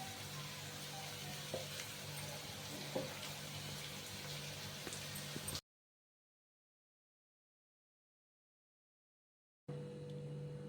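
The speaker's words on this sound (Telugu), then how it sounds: "ఇప్పుడు అరటికాయని ఇలా చేతితో స్మాష్ చేసుకుంటూ వేసుకోవాలి" Raw banana fries in a pan with turmeric and salt, a soft, faint sizzle with light stirring clicks, broken by a stretch of silence before the sizzling returns.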